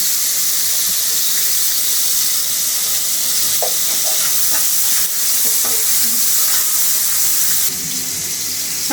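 Prawns frying in a pan for prawn and egg noodles, a loud, steady hissing sizzle with a few soft clicks and stirring knocks, no speech over it.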